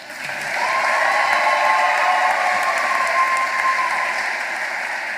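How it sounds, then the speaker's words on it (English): Graduation ceremony audience cheering and applauding, a loud sustained wash of clapping with whoops that swells in the first half second and holds steady to the end. "I think you guys can cheer a bit louder."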